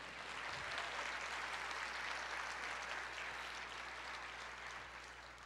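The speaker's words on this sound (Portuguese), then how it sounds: "aplauda ao Senhor" A church congregation applauds the Lord in a dense, even wash of many hands clapping at once. The sound stays steady and somewhat distant throughout, then eases slightly near the end.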